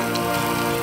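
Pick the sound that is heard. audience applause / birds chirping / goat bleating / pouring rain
pouring rain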